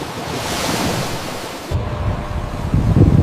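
Ocean waves wash and roll steadily under heavy wind buffeting the microphone, with a deeper surge building toward the end.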